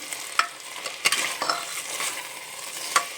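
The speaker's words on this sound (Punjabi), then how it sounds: "ਇਹ ਦੇਖੋ ਮੈਂ ਚਾਵਲ ਵਿੱਚ ਪਾਏ ਹੋਏ ਨੇ ਔਰ ਮੈਂ ਭੁੰਨ ਰਹੀ ਹਾਂ ਇਹਨਾਂ ਨੂੰ" Rice stirred and roasted in a pan over low heat, with a soft continuous sizzle broken by several sharp scraping strokes of the spoon, close by and with no talking.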